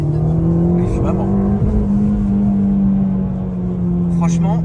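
A car driving on a country road, a loud steady engine drone heard from inside the cabin with brief whooshes, while people talk over it.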